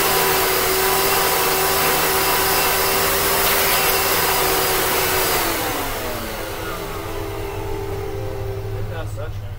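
A Hoover Elite vacuum cleaner runs loud and close, its motor holding a steady whining drone before winding down and dropping in pitch toward the end.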